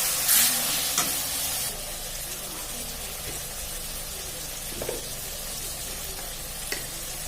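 Garlic and ginger paste frying in a pan for rajma masala, a steady sizzle with occasional spoon stirs and scrapes, louder at first and then settling.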